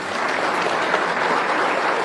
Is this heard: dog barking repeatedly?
no